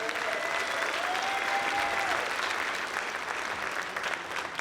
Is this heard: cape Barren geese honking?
no